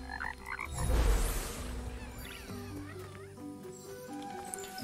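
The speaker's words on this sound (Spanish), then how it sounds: "Son ranas." Frogs croaking in the video game Kena: Bridge of Spirits, a series of short, pitched croaks in a rising and falling sequence over a rushing ambient bed, with a swell of noise early on and no clear talk.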